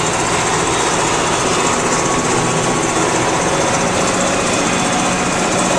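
An undertree orchard finishing mower runs steadily at close range, a loud, continuous engine drone mixed with broadband cutting noise, no voices.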